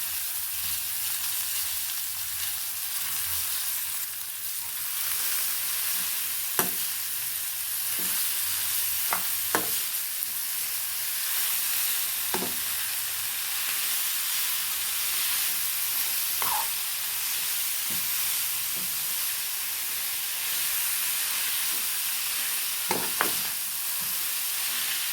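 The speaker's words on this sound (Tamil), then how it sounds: "லோ ஃப்ளேம்லேயே வதக்கி விடுங்க" Ridge gourd peel sautés in a pan over a low flame, giving a steady, soft sizzle with occasional sharp spatula clicks and scrapes scattered through.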